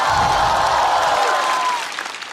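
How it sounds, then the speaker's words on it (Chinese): A stand-up comedy audience cheers and applauds, a loud, dense crowd roar that fades toward the end. "这但凡在外边观众有这种欢呼和掌声"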